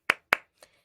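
Two sharp claps followed by a fainter third, close and clear with no talk, like the start of an audience clap poll at a political discussion.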